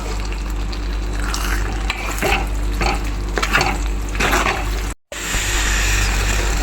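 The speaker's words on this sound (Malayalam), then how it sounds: "ഇനി നമുക്ക് ഇതിനൊന്ന് മിക്സ് ചെയ്യാം" Steady wet stirring and scraping of beetroot and lemon pickle being mixed with asafoetida powder in a pan, continuous and close for several seconds with one brief dropout.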